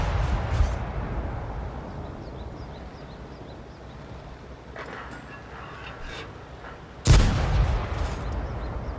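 Tank gun shots in a tank video game, blind-fired by an M18 Hellcat tank destroyer: one loud deep boom near the end, with a fainter earlier report and low rumbling engine ambience throughout.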